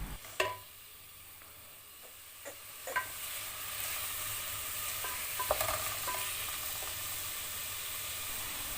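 Onions sauté with a little salt in a pan for kheema biryani, giving a continuous soft sizzle with occasional clanks and scrapes of a spoon stirring, close and fairly quiet.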